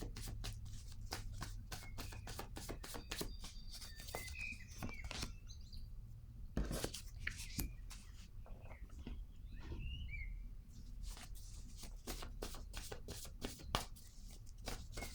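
Tarot cards shuffled by hand for a reading, a steady run of soft riffling flicks and slaps repeating throughout, close and fairly quiet, with faint bird chirps in the background.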